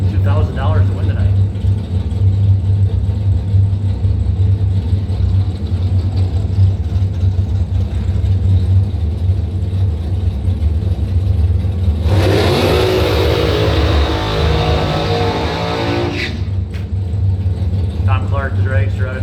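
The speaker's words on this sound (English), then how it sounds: "The dragster out of Traverse City." A drag racing dragster at Northern Michigan Dragway, a low steady engine rumble that breaks into a sudden loud, broadband burst of revving for several seconds before settling back, with announcer talk throughout.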